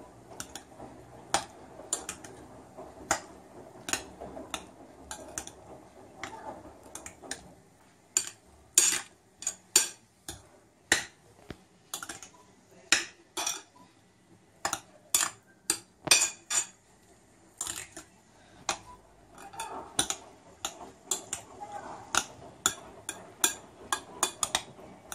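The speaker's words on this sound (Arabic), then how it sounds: "كنخلطوا هادشي هنايا مع هاد المايونيز" Boiled potato salad being mixed with mayonnaise in a bowl, heard as a long run of light, irregular clinks and taps of a utensil against the dish, close and fairly quiet with short pauses.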